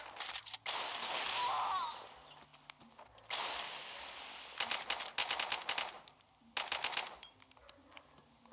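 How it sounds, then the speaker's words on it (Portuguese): Gunfire in a PvP battle on a 12x12 tower-territory map in the video game LifeAfter: loud, rapid bursts of shots crackle in clusters, separated by brief quieter gaps filled with background game noise. "Estão atirando."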